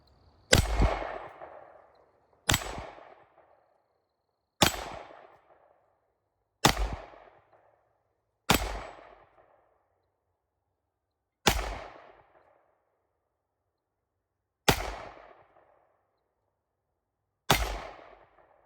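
A G-Force Arms Chronicle 1911 9mm pistol fires Blazer and Winchester ammunition in eight loud, sharp single shots. Each report is spaced roughly two seconds apart and rings out with a short echoing decay.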